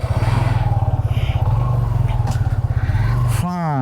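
A Suzuki Gixxer 150 FI ABS motorcycle is ridden with its engine holding a steady, low, pulsing drone close by, and a voice talks over it throughout.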